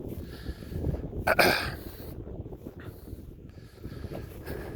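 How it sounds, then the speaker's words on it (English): Low, rumbling wind buffeting a microphone, steady throughout with a brief louder gust burst near the start; no talking. "pardon the wind noise for a second here."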